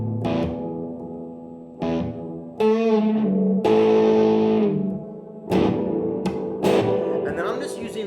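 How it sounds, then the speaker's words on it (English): Distorted electric guitar power chords, root plus fourth, slide quickly down the neck in a blues cover, played alone in loud, sustained bursts separated by short gaps and scratchy open strums. "I just grab the power chord right there, which is the root and the 4th above it, and slide it down real quick."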